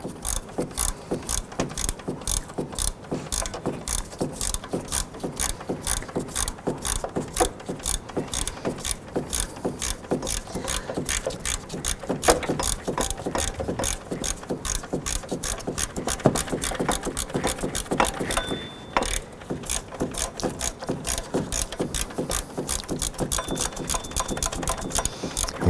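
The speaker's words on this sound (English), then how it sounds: "we're going to go ahead and snug up that lower, shorter alternator bolt" Rapid, steady ratcheting from a socket wrench snugging up the lower alternator bolt on a 2007-2011 Honda Civic, a dense continuous stream of clicks lasting many seconds, close and loud, with one brief pause near the end.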